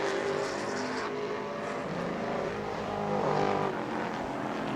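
A Pro Late Model race car roaring down the main straightaway at New Smyrna during qualifying, a steady loud engine drone holding throughout with a slight swell midway.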